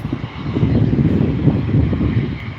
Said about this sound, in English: Here's a private jet taking off.